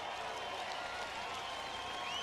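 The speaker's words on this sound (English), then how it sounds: "Good round of applause from the crowd as Bill Elliott comes out." A crowd applauds as Bill Elliott comes out at the 1999 Winston NASCAR race, a steady, distant wash of clapping and cheering with no breaks.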